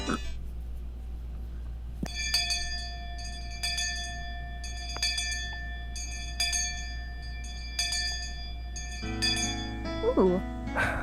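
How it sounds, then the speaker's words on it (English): A school bell chimes in a series of clear, ringing strikes at an even pace, each one decaying slowly, before a softer jumble of higher tones near the end. "the last school bell always came too soon"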